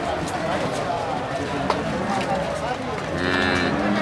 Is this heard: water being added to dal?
no